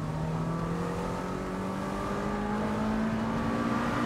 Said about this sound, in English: It's got a really exhilarating engine note to it as well.